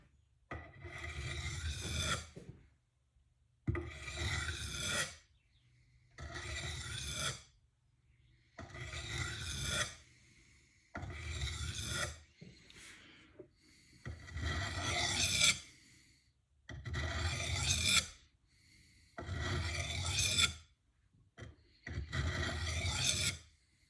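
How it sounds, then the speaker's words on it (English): A blunt kitchen knife is drawn across the rough side of a whetstone in ten evenly spaced, loud rasping strokes, each lasting about two seconds and separated by brief pauses, with no voices. "I'm going to use a rough edge on a whetstone first to get it roughly sharp"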